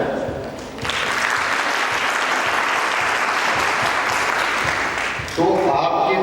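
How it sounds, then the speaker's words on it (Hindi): Audience applause breaks out after about one second and holds steady and loud, full clapping from a crowd at an event, with a brief lull near five seconds before it swells again. "उसके लिए तो तेजी से तालियां बजाएं।"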